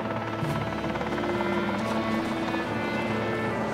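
Military helicopter transporting troops in a battle area during the Vietnam era, a continuous loud rotor thrum and engine drone filling the whole stretch without pause.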